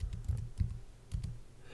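Typing on a computer keyboard: a few soft clustered key clicks, close and quiet, with short pauses between bursts.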